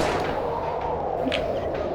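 Two-shot weapon firing in the video game Worms 3D, heard as a dense, steady rumble of game explosion noise that continues without a break and carries a brief brighter burst partway through.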